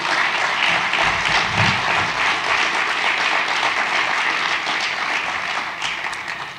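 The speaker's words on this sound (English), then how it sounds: "Let's give our presenters one last round of applause" A conference audience at a Utah history event gives presenters a final round of applause, a dense, sustained crowd clapping that holds steady for several seconds before starting to thin out, with no speech over it.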